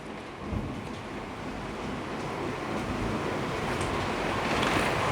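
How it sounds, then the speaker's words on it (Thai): Heavy rain pours down with thunder, forming a dense, continuous roar that slowly builds louder across the stretch, with a low rumble underneath and no voices. "ไม่คาดคิดเลยว่าฝนตกแล้วฟ้าร้องหนักมากนั่นเองนะคะ"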